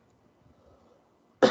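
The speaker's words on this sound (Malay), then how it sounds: "Tiba-tiba batuk kan?" A single sudden cough bursts out loud and close after a quiet stretch of faint background murmur, cutting off abruptly at the end.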